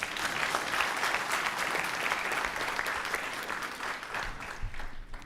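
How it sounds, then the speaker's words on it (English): An audience applauds at the end of a lecture by Gen. Museveni, dense sustained clapping that fills the room at moderate distance and eases off slightly toward the end. "Would everybody like to join me in another round of applause?"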